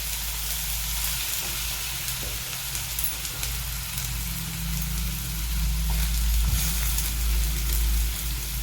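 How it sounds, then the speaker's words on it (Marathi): Onion goes into a hot pan of oil with curry leaves and sizzles steadily, up close, over a low, constant rumble in the background. "आता याच्यात हा कांदा घालत आहे"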